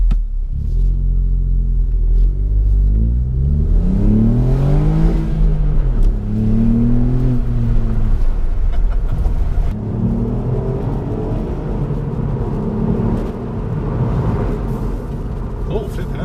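A 2018 Ford Fiesta ST with a 1.5 litre engine and six-speed manual gearbox revs and pulls, a loud, deep cabin rumble that rises in pitch through the gears, with brief dips between pulls.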